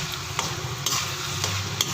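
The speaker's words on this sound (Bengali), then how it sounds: "এবার আর 5 মিনিট আমি এই কিমাটাকে কষিয়ে নেব মশলার সাথে।" Mutton keema sautéed with spices in a pan, a continuous close sizzle and fry with light scraping strokes of stirring over it.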